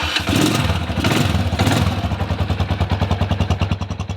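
A Big Boy Mustang 250 cruiser's single-cylinder engine catches and settles into a loud, even, thumping idle with distinct rapid pulses.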